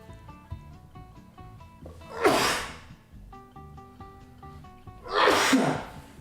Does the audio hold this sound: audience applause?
no